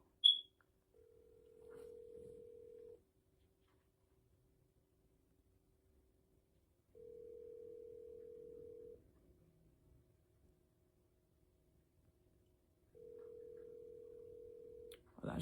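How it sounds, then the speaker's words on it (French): Outgoing telephone call tones: three evenly spaced ringback beeps, each about two seconds long with four-second gaps, faint and clean over near silence, with a brief click at the start and a noise at the end. "Je vais lancer un coup de fil"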